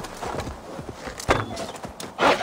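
Horse hooves walking in the video game Assassin's Creed Valhalla, a few soft uneven clip-clop thuds at moderate distance with a louder knock near the end, no speech over them.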